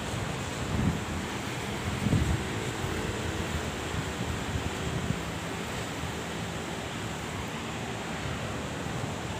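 Steady wind roars and rushes across the microphone on an old bridge, a broad continuous noise with a few brief low buffets near the start.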